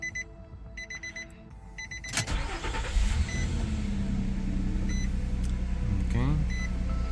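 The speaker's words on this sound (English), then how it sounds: "Let me turn the car on. I'm going to turn it back on, okay?" A 2008 Nissan Pathfinder LE V6 is started after spark plug replacement: warning chimes beep in rhythm, then the starter cranks briefly and the engine settles into a steady, close idle hum while the chimes fade.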